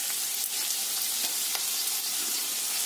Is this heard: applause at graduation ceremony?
no